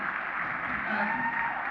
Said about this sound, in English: Give yourselves a round of applause for showing up.